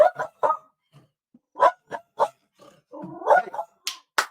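A dog named Karen barking indoors, a rapid series of sharp close barks with short whiny yelps between them.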